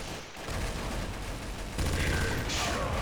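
Gunfire from dual pistols and a P90 submachine gun in Counter-Strike: Source, a dense, continuous burst of rapid shots that grows louder partway through, with a brief lull near the start.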